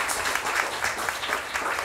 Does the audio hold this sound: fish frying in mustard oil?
no